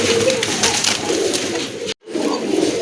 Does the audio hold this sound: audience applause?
no